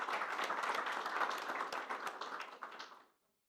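Audience applause for a university rector introduced as a special guest at a conference on European information integrity, dense crowd clapping that holds steady for about three seconds, then tapers off abruptly to silence.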